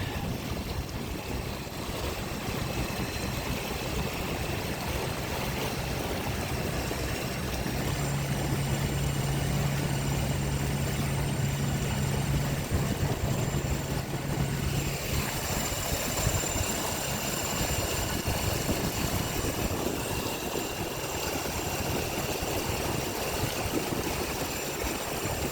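A Torqeedo electric outboard with a 915 Wh battery pushes a small sailboat hard, a steady whir over broad water and wind wash, holding even and fairly loud throughout with a slight shift in tone midway.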